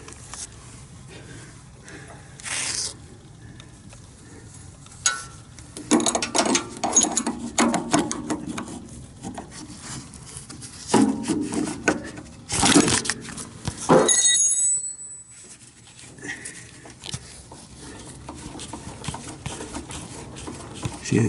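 Unscrewing the nut on an HCU cable on a UFO: quiet, scattered metallic clicks, ratcheting ticks and small scrapes come in short bursts with pauses between them, close by, and no one speaks.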